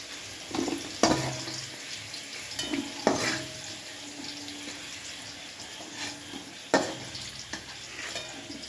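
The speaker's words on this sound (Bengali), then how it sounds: "তো দেখো বন্ধুরা, আমার বিনসটা ভাজা হয়ে গেছে। বিনসটা আমি তুলে নিচ্ছি।" Fried beans are stirred and scooped out of a pan, giving a few sharp scraping clatters of a spatula against metal over a soft, steady sizzle.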